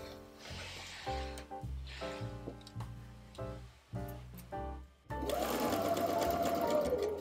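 A sewing machine stitches the side seams of wide-leg trousers in several short bursts of rapid, even mechanical clatter separated by brief pauses, then runs steadily at the end, close and clear.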